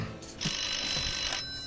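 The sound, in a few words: telephone ringing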